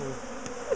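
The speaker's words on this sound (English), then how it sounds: "you're so covered in bees" Close, steady honey bee buzzing hums continuously around an open top bar hive during colony splitting, with no talking.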